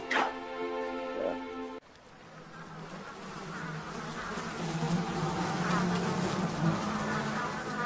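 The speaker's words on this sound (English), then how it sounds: "Flies." Flies buzz steadily near a toxic salt lake, a dense insect drone that rises and fills the scene after a brief tonal opening sound, close and continuous throughout.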